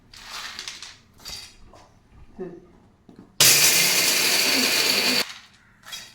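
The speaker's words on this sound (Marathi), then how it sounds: "आता आपण बारीक करून घेऊन मिक्सरला" After some quiet clatter, a mixer grinder roars loudly for about two seconds, grinding peanuts with a harsh whirring buzz, then stops abruptly.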